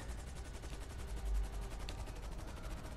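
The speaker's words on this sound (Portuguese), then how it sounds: "Já me encheram de tiro aqui." Rapid automatic gunfire in GTA V rattles in a fast, even stream of shots, fairly faint and distant, with one heavier thump partway through.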